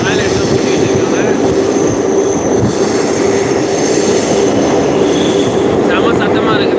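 A train roars loudly past Adambakkam station without stopping, with steady rumbling wheels and faint metallic squeals that continue throughout, heard from close by.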